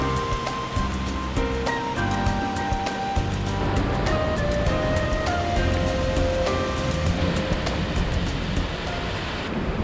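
Rushing water roaring through Sunrift Gorge in Glacier National Park, a loud continuous close-up torrent with no talking.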